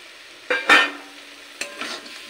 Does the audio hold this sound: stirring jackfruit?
yes